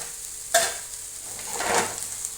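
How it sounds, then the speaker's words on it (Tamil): A spoon scrapes once against a pan holding bottle gourd usili, a sharp clink, followed by a soft, steady sizzle of frying and a gentle stirring swish, close and without talking. "இதை நம்ம கிளறிட்டு சிம்மில் வச்சு மூடி வச்சுருவோம்"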